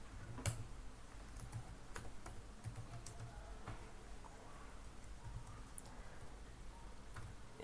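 Computer keyboard typing Java code, a faint scattering of soft key clicks in irregular bursts over a quiet background, with no talking.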